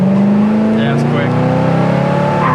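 A 1970 Chevelle's engine pulls steadily while driving at speed, a loud, sustained drone with a slowly rising pitch from inside the car, continuous throughout.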